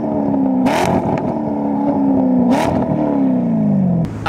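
A Chevrolet Corvette revs loudly up close as it pulls away, its engine note climbing and dropping through several gear shifts with sharp bursts between them.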